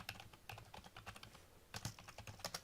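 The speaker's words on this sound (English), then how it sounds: "I will even type it in here" Rapid, uneven keystrokes on a computer keyboard as a website address is typed, close and fairly quiet, with short bursts and pauses and no talking.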